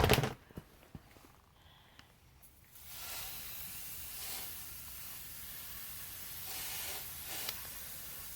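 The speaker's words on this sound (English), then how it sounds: "we are going to be getting these misted" A hand spray mister gives a few sharp clicks and short bursts, then a long soft hiss of fine mist over cauliflower seedling soil blocks, steady and close with a couple of brief pulses near the end.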